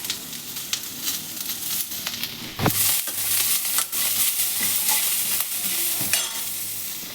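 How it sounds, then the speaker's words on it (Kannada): Masala ingredients for paneer butter masala frying in a pan, giving a steady loud sizzle with scraping stirs and occasional spoon knocks against the pan. "ಇಷ್ಟನ್ನು ಹಾಕಿ ಫ್ರೈ ಮಾಡ್ಕೊತಾ ಇದ್ದೀನಿ"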